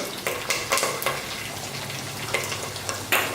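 Cumin seeds, curry leaves and asafoetida crackle in hot ghee in a kadhai for a dry potato bhaji, with a steady close sizzle and a few sharp pops and utensil clinks, no talking.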